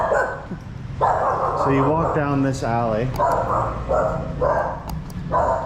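A dog in a Saigon alley barks repeatedly in short bursts close by, its yelps rising and falling in pitch while someone talks over it.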